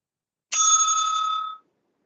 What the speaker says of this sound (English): The timekeeper will ring the bell twice at the end of the 7 minutes